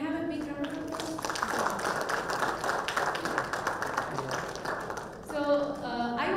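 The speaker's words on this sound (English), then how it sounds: "Can I have a big round of applause?" An audience at an anniversary inauguration evening breaks into a sustained round of applause that fills several seconds, with a voice speaking briefly before and after it.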